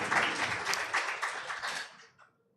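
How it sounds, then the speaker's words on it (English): An audience at a reproductive justice litigation forum claps steadily for a speaker. The applause is full and fairly close, then tapers off and fades to near silence by the end. "I would clap for you again"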